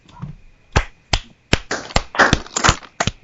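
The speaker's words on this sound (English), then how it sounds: "Should we just give a sarcastic round of applause for that?" Podcast hosts giving a sarcastic round of applause, a sparse handful of sharp, dry claps from a few people, irregular and close, starting slowly and then bunching together.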